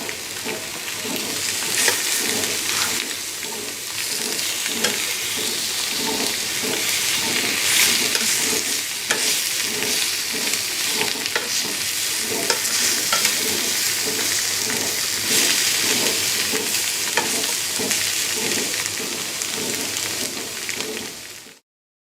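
Tofu sizzling and frying in a pan, a steady crackling hiss with fine popping that runs continuously and close, no voices over it.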